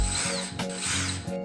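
A power driver whirs briefly up close, driving screws into a wooden table saw jig board. The tool's buzzing, ratchety whine pulses twice within about a second and a half, with no talking.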